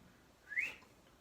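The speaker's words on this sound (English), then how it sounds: "Gotta make those little whistles and noises when you're painting" A person painting in a Bob Ross style gives one short, rising whistle close by, standing alone against quiet room tone.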